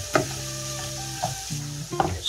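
Flour roux being stirred in a pot for a shrimp and crawfish dish, with a soft sizzle and a few scraping strokes of the spoon, close and alone without talk.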